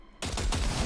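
Gunfire at a firing range in Cyberpunk 2077: after a brief quiet moment, a loud, close shot bursts in and rings on with a dense, roaring tail.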